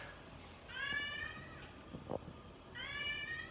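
A cat meows twice, short high cries separated by a pause, with a small soft click in between; fairly close and clear.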